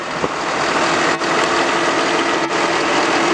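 A John Deere 5067E tractor engine drones steadily nearby during loader work, a loud continuous rumble with a couple of brief dips and no talking.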